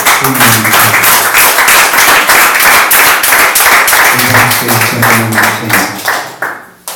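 Rhythmic clapping from a church congregation during a Pentecostal-style worship service, steady and loud, with sung or spoken voices and music tones running underneath before the clapping trails off at the end.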